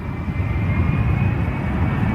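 Steady loud jet roar of a fighter jet during a botched landing that ends in a belly landing after both landing gears collapse, a continuous rumbling engine wash with no distinct impact.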